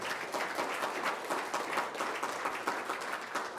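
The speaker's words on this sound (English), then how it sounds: "we can give them a round of applause" An audience at a school career technical education showcase applauds, producing a steady, dense patter of many hands clapping that fills the room and continues evenly without talk.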